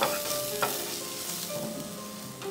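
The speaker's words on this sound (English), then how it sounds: "we'll sauté all this till the onions turn a little brown" Garlic, onions and a bay leaf sauté in a pan with a steady soft sizzle, broken by a few stirring scrapes; fairly quiet and close, with no talking.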